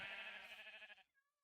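A sheep in a Minecraft-style video game bleats once, a loud wavering cry lasting about a second, then cuts off, leaving faint tonal game sounds.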